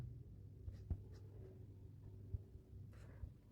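Faint pen-on-paper scratching as an answer is written out on a page, quiet close strokes with a few soft taps over low background hum.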